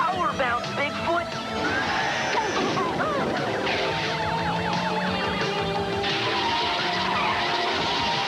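A cartoon car skids on an oil slick, with squealing, wobbling tire screeches and engine noise mixed with music, while voices talk over it.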